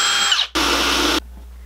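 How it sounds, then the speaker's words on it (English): A power drill whines up, pauses briefly, then bores loudly into wood for about a second before stopping, pre-drilling screw holes. "it's a good idea to pre-drill these holes so that we don't have any cracking"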